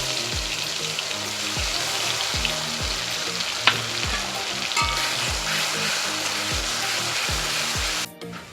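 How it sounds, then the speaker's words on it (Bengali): Bottle gourd peel sizzles and fries steadily in a wok with nigella seeds, with repeated rhythmic scraping strokes of stirring and a brief clink near the middle, continuous and close before cutting off at the end. "এবার দিয়ে দেবো কড়াইতে একটু কালো জিরে। লাউয়ের খোসাটাকে এবার দিয়ে দেবো।"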